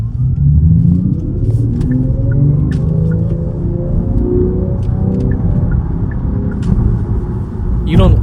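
A low, humming synthetic drone rises and falls in pitch like a futuristic engine, steady and fairly loud, with a brief sharp sound at the end: the active sound design of a Kia EV4 electric car.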